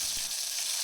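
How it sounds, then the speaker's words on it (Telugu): Curry leaves spluttering in hot oil as a tempering for buttermilk curry: a brief, continuous bright hiss with one low thump near the start, close and fairly loud, with no speech. "కరివేపాకు చిటపటలు అన్న తర్వాత"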